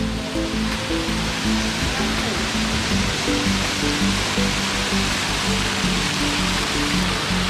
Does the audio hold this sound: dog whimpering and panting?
no